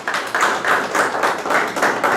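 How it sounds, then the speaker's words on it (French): Clapping at an academic-year opening ceremony for medical biology, a fairly loud, steady patter of many hands with slight pulsing swells, no voices over it. "je vous demanderai à tous de lui faire un applaudissement en guise de remerciement"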